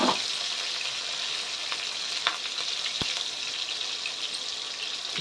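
Sweet neem curry leaves crackle and sizzle in hot oil in a pan, a bright continuous frying hiss with scattered pops and a few louder spits, close and steady without speech.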